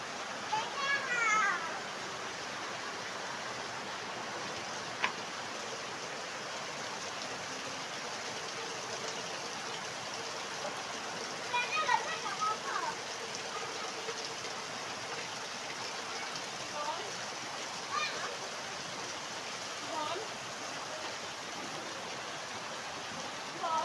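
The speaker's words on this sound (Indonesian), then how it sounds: "Bocil hujan-hujanan." Children play outdoors in the rain, their voices distant and scattered over a steady hiss of rainfall that carries on throughout.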